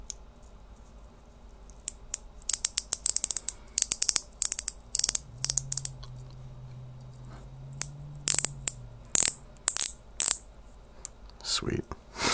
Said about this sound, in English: we need to take a look at the clicky drag